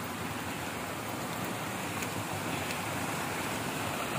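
A waterfall reached after a walk, giving a steady, even rushing roar of falling water with no pauses, heard close with no voices.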